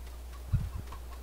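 Chickens in a farming video game set on a Michigan map give a few soft, low clucks in a quick cluster, faint and close, with no talking.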